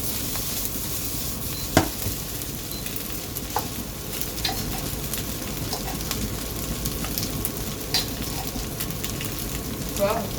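Two spoonfuls stirred into hot water in a kitchen, a soft continuous swishing with a few light clinks of the spoon, faint and steady with low background noise.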